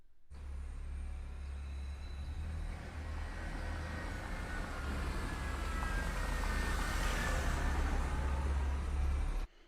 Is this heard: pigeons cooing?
no